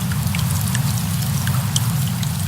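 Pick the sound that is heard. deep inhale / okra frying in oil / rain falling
rain falling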